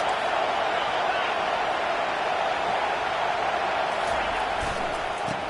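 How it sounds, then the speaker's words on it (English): A packed football stadium crowd roars to help its defense, a loud, continuous wall of noise sustained throughout, with a commentator talking beneath it. "Listen to this crowd just shaking the girders of this place, trying to help their defense."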